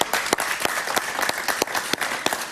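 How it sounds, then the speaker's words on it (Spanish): A television studio audience applauds a guest Argentine journalist with steady, dense clapping that swells and holds throughout, close and loud with no talk over it. "Un aplauso para ella,"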